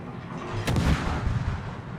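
A naval gun salvo booms in the World of Warships game as a destroyer battle unfolds near the Musashi, one heavy deep blast with a rumbling tail over steady background game noise, and no voices.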